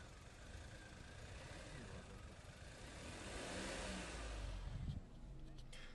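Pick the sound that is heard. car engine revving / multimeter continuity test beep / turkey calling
car engine revving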